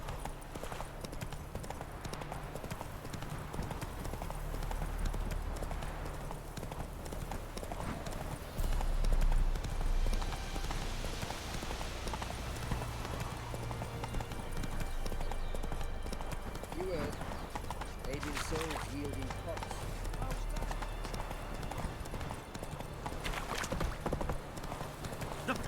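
Geralt's horse Roach gallops in The Witcher 3 Hearts of Stone, a steady run of clip-clopping hooves continuing throughout beneath voices and game ambience.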